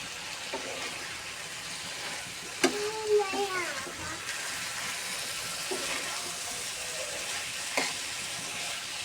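A low, steady sizzle of a potato and liver fry simmering in a pan as the water cooks off, with occasional utensil knocks and a brief voice speaking nearby.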